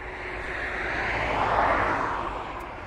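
Aircraft at East Midlands Airport, a distant jet roar swelling to a peak and then easing, steady broadband rumble with no talking.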